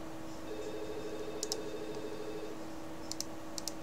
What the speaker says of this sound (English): Pretty sure that was Skype.